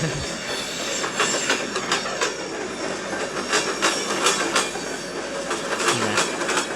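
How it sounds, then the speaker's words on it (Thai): Freight train passing a Thai level crossing in the Roblox video game, with a continuous rumble and repeated clickety-clack of wheels on rail joints under a faint hiss, and no talking. "โอ้รถคอนเทนเนอร์ครับ หรือว่ารถสินค้านะ เหมือนรถสินค้า 601 เลยครับ"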